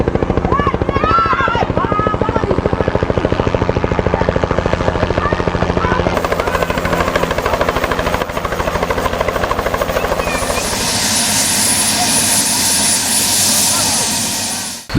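A helicopter flies close and loud, its rotor thumping in a fast steady chop with a whining engine, the sound shifting and brightening with hiss in the later part.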